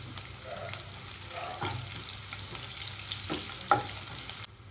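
Crushed garlic frying in a pan, with a soft, steady sizzle and a few stirring scrapes and light taps before it cuts off at the end.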